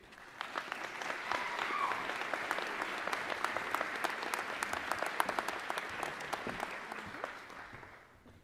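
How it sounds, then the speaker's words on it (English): An audience applauds steadily for several seconds at a college commencement ceremony, dense clapping that swells and then tapers off at the end. "Please join me in a round of applause for your student speaker this evening, Student Government President Savannah Baker"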